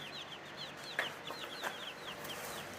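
Chickens in a multi-purpose transportable cage cluck softly, a series of short, rhythmic calls at moderate distance over a faint background.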